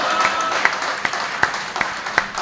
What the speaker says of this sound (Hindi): तालियां तो इस बात पे बजाना